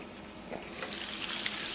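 Potstickers cooking in a pan as the stock boils off, a steady close sizzling and bubbling that grows slightly brighter and louder over the short stretch, without talking.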